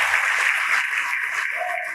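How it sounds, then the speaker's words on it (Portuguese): A church congregation applauds together, a steady wash of clapping that stays fairly loud and even for the whole stretch, with no voices standing out above it. "vamos aplaudir ao Senhor Jesus por cada vida que está chegando"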